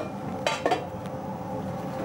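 Pots and utensils clank twice in quick succession while thyme is strained during preparation of Catalan-style guinea fowl, with a soft kitchen background between the two metallic knocks.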